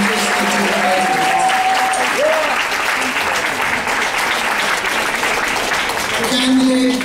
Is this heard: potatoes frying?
no